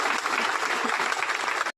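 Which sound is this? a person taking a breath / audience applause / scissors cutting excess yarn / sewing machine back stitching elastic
audience applause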